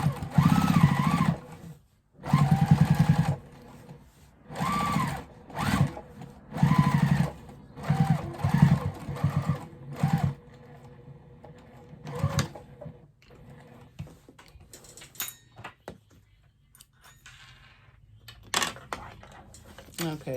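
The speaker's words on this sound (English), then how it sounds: "Now I'm going to top stitch right along at 1/8 of an inch." A sewing machine top stitches a quilted jelly roll tote bag at a 4 stitch length, whirring in bursts of several seconds with pauses between them, followed by softer clicks and handling noises.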